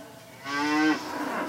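A single cow on a dairy farm lets out one short, close moo that rises into a strong, harmonic-rich tone and then trails off, with nothing else around it.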